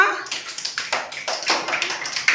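Group of people clapping for a child walking a straight line, quick uneven applause up close for a couple of seconds.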